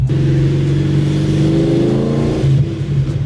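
A nearby supercharged Mustang engine, fitted with a ProCharger P1SC, drones loudly with a steady whooshing hum that rises slightly in pitch as the supercharger spins up.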